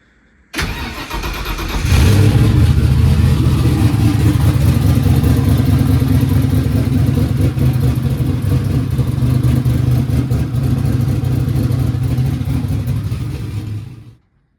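A turbocharged Ford Coyote V8 cranks and catches, then roars at high, steady revs for over ten seconds, loud and close with no talking, before cutting off abruptly.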